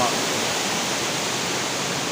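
Rushing water at Nang Khruan waterfall, Tak province, makes a dense, steady roar, loud and close, holding even throughout the brief moment.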